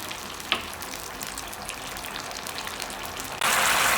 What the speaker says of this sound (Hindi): ग्रेवी में अच्छा उबाल आ गया है।